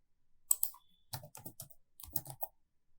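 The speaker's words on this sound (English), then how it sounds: "I am typing secret as the password." A password is typed on a computer keyboard in a quick burst of crisp, close key clicks, about a dozen strokes in uneven rhythm with a brief pause partway through.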